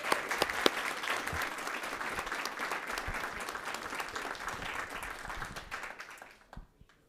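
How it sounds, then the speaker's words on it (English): An audience at a school board of education meeting applauds teachers, a sustained patter of many hands clapping at moderate distance that thins out and fades to quiet over about seven seconds. "One more round of applause for them."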